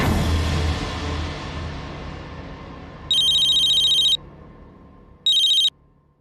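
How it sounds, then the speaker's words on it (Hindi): A telephone rings in two electronic bursts, one longer and one shorter, close and loud, after a quiet, fading stretch. "मैं मानव को फोन करती हूँ।"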